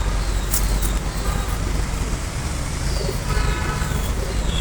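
A female pigeon coos softly in a loft, brief low calls over a steady background rumble of passing road traffic, with no one talking.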